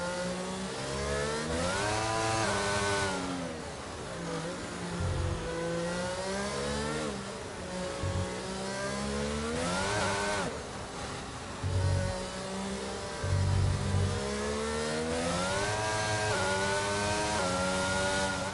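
An F1 race car engine in the video game F1 22 screams and revs up and down as it accelerates between gear changes, loud and continuous throughout, with no talk.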